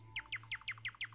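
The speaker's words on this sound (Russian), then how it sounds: "Воробей. Правильно," Repeated bright chirps from a small sparrow, about six evenly spaced tweets in just over a second, close and clear over a steady low hum.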